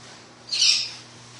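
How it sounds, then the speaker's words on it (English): A pet bird gives a single short squawking call indoors, a brief bright burst that rises and fades within about half a second over a quiet room hum. "if you're hearing a bird, that is Marley over there"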